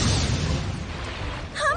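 An explosive anime attack bursts with a loud, broad rumbling blast that holds steady, then a brief swelling whoosh flares near the end.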